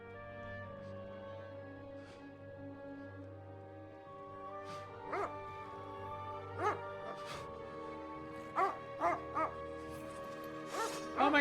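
A dog in Kingdom Come: Deliverance 2 yelps and whimpers in short bursts over a sustained musical drone, the cries growing louder and closer together toward the end.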